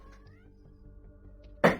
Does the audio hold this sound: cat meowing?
yes